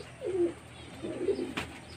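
Young pigeons in a loft give two soft, throaty coos a second apart, close by over a low background hum, followed by a brief flutter.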